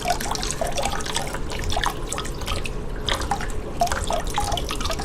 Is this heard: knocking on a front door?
no